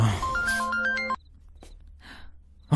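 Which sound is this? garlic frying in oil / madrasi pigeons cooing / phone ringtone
phone ringtone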